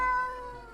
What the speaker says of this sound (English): The cat answers in a meow of uncertainty.